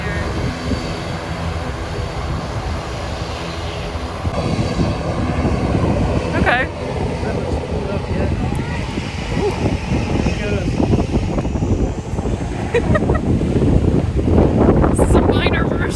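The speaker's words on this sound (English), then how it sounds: "we're going to attempt to get a small version of jet blast here" Jet blast from a landing airplane at Maho Beach, St. Maarten: a steady, loud roar of engine exhaust and wind gusting into the microphone that builds and stays strong throughout, with a brief spoken word near the start.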